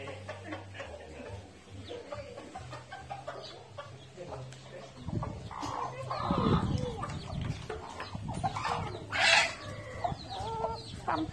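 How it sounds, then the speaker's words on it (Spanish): Hens clucking and squawking as they fight, at a close to moderate distance. A burst of flapping and scuffling comes midway, with faint talk and household noise in the background. "Están peleando la gallina."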